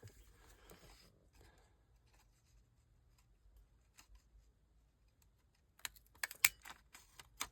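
A paper punch clicks and crunches through a scrap of music paper to make round tags, a few sharp close snaps near the end after quiet handling.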